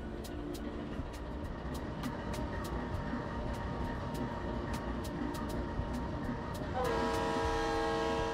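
An RS3L locomotive in the Trainz railway simulator rings its bell in steady, evenly spaced strikes over a constant engine rumble, and near the end a loud sustained horn sounds.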